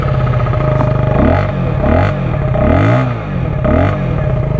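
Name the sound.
exhaust of Neco NC-N01 125cc motorcycle revving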